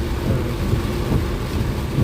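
Heavy storm rain while driving in Thailand, a dense continuous roar of rain pounding the car with a deep low rumble of thunder underneath, loud and steady throughout with no talking.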